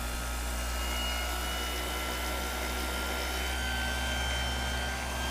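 A Bosch ROS20VSK 120-volt variable speed random orbit sander runs at its lowest speed setting, giving a close, steady motor drone with a constant hum throughout.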